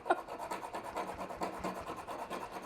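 A hand-held hacksaw blade cuts into a copper PEX crimp ring on plastic pipe, giving a close, steady back-and-forth rasping with quick repeated strokes, no talking.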